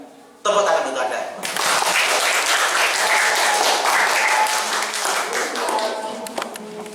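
A live audience breaks into applause after a short pause, a dense, sustained burst of clapping from many hands that fills the room and holds steady for several seconds, with some voices mixed in.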